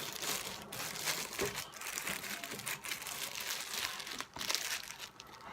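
Plastic bag crinkling while a Spektrum DX8 Gen2 Black Edition radio transmitter is unboxed, a steady close rustle with a few sharper crunches, no talking.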